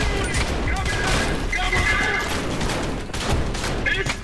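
Rapid video game gunfire crackles in dense volleys throughout, loud and near, with a player talking over the shots.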